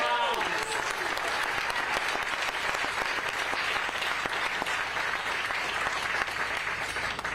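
An audience cheers and applauds at a hospital event announcing funding for a cancer center, a dense, steady wash of clapping with voices calling out that holds for the whole stretch.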